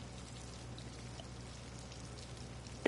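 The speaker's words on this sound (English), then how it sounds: "is the sound of water coming from the toilet?" Steady soft trickle of water running from a toilet in the horror game Death Mark II, a faint continuous wash with a single brief louder knock near the end.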